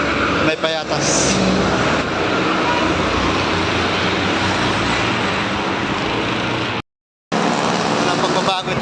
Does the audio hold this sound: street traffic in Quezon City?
yes